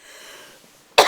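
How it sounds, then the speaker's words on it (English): A single sharp, close cough bursts out at the end of a quiet moment in a podcast conversation. "I don't know why I keep coughing."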